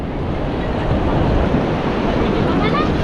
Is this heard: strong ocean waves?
yes